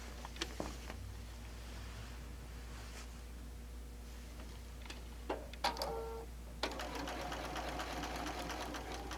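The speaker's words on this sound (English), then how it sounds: "I've always just sewn it once, but I do it with a triple straight stitch." A domestic sewing machine runs a triple straight stitch on apron fabric, a faint steady whirring stitch with a few taps and clicks. It picks up louder near the end over a low constant hum.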